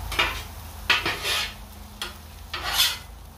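Omelettes flipped in a pan: several short scraping, rasping strokes of a spatula against metal, close and distinct, spaced irregularly with brief pauses between them.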